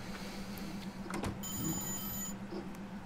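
Alarm clock ringing in the video game Sąsiedzi z Piekła Rodem (Neighbours from Hell): a bright electronic ring lasting about a second, steady and clear over a low background hum, with no talk.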